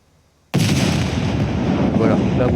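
A cargo drop container blows up in the survival game SCUM, a sudden loud blast after half a second of near silence, followed by a sustained rumbling roar and debris crackle that slowly fades.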